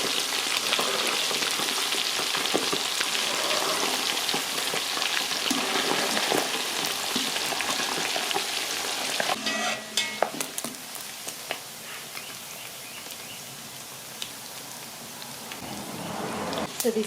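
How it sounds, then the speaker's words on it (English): Saltfish fries in a wide pot with a dense, steady sizzle and crackle, fairly faint, broken midway by a few clinks and stirring sounds before the even frying hiss resumes. "So I'm frying the saltfish,"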